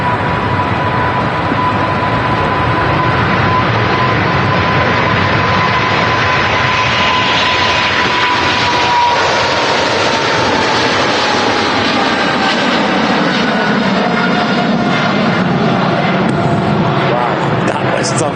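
An Emirates Boeing 777 jet takes off from Manchester Airport, its engines a loud, steady broadband roar with a rising whine that fills the whole stretch, while people talk over it.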